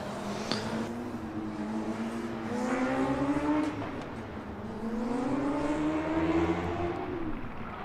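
Formula Student race car at a 2022 autocross event, its engine note climbing and falling in pitch as it drives past over about eight seconds, steady and moderately loud.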